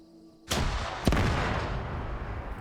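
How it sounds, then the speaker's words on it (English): Explosions from trucks in a video game firefight: a sudden loud blast followed half a second later by a second sharp boom, both trailing into a long rumbling decay, with no talk. "More explosions. Yep, that's from the trucks."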